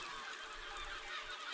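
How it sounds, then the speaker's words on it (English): Geese honk repeatedly in the building game Besiege, a dense, overlapping cluster of nasal calls with no voices heard. "We can just go ahead and grind away all these pesky birds."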